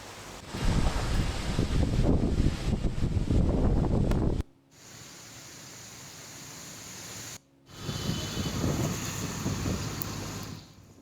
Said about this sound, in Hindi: बारिश के साथ में तेज हवाएं भी चल रही हैं।